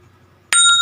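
A bell sound effect from the KineMaster video editor rings once, sharp and bright, after a quiet stretch and then sustains with a clear ringing tone.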